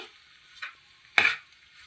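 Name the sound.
stirring pasta in a pan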